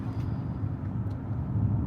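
A BMW X5 M Sport engine under load gives a steady, deep rumble that stays fairly constant and close for under two seconds, with no voices.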